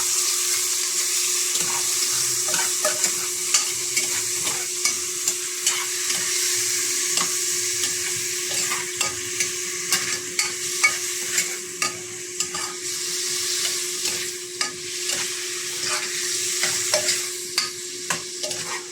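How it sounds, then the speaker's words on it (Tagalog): Chicken liver and gizzard sizzle steadily in a pan, a continuous frying hiss punctuated by regular scraping stirs of a spatula, close and fairly loud with no talking. "Sasapusahin na natin mga boss Hanggang lumabas yung kanyang mantika"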